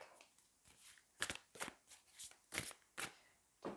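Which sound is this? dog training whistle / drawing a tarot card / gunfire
drawing a tarot card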